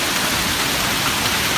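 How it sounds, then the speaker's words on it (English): Heavy rain and hail pour down during a tornado storm, a dense, steady roar of hiss and patter with no pauses or voices, loud and close. "There's hail everywhere."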